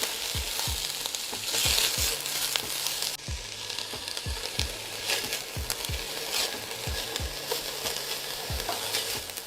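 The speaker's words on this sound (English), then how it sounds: "drop in your onions and poblanos and saute for 3 to 4 minutes until slightly softened" Onions and poblanos sauteing in hot oil in a pan: a constant loud sizzle with regular scraping thumps of a utensil stirring through the vegetables, close and without talk.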